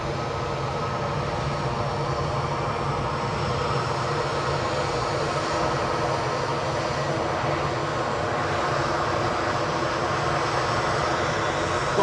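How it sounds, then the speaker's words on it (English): An ATR turboprop airliner at Edinburgh airport gives a loud, steady propeller and engine drone, a constant roar that holds unbroken with no talking. "Got an ATR coming out to make some noise"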